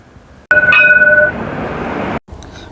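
A Dubai tram passes close by: a short, bright tonal horn note rides over a loud rolling rumble, which fades slightly and then cuts off abruptly, leaving quieter street ambience. No one talks.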